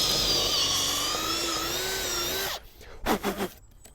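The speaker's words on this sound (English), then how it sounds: "we'll drill our hole through the centre" A power drill whines loudly at a steady high pitch as it bores through a timber door lintel, then stops, followed by a few short scraping bursts.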